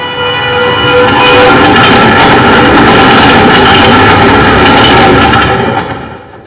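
Night express train rushing past as a stage sound effect, a loud, sustained rumbling roar with rhythmic clatter that builds quickly, holds steady and then fades away.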